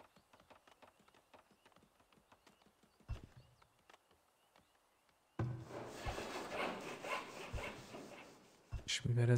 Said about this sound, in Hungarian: Fűrészmalom.